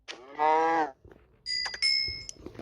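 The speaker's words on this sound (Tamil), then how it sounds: "மாடு" A cow mooing in a Minecraft-style block survival game, one clear drawn-out moo up close, followed by brief chiming game effects with no voice over it.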